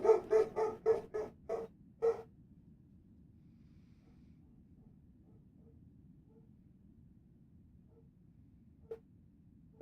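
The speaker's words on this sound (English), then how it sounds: "I also have a dog and he's barking a lot." A dog lets out a quick run of about seven sharp barks, fairly faint, then falls silent apart from a couple of soft isolated sounds later.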